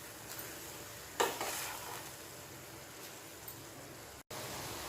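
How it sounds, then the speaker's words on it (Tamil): Cabbage mixed with soaked moong dal and salt is stirred in a pan, a soft, steady sizzle with one brief scrape of the spoon near the start and a short gap near the end. "இப்போ நம்ம இது எல்லாத்தையும் ஒரு தடவை மிக்ஸ் பண்ணிக்கலாம்."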